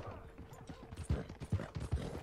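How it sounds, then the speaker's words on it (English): Horse hooves clip-clopping in the video game Red Dead Online, a fairly faint, regular run of soft hoofbeats that grow more distinct toward the end, mixed with quiet game ambience. "Riding my horse."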